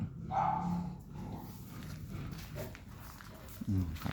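Small yips and barks from a young dog come in short bursts amid background noise and someone talking.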